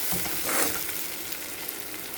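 Okra (bhindi) fries in a pan with a steady, close hiss of sizzling oil and a few stirring scrapes, no voices present.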